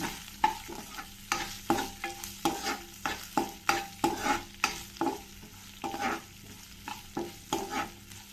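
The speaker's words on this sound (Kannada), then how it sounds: "ಈರುಳ್ಳಿ ಸ್ವಲ್ಪ ಚೆನ್ನಾಗಿ ಕೆಂಪಗೆ ಫ್ರೈ ಆಗೋವರೆಗೂ ಇದನ್ನು ಸ್ವಲ್ಪ ಚೆನ್ನಾಗಿ ಫ್ರೈ ಮಾಡ್ಕೊಳ್ತೀನಿ" Onions frying with raw cumin until reddish, stirred briskly with a spatula: a rapid, rhythmic run of scraping strokes over a continuous close sizzle, with no one talking.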